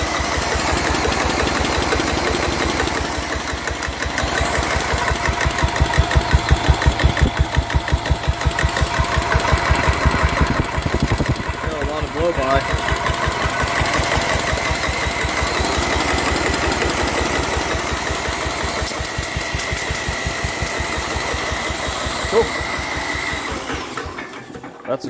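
A barn-find Cub Cadet garden tractor engine runs steadily and loudly at close range for the whole stretch, a continuous chugging drone with a fast even pulse that cuts off abruptly at the very end.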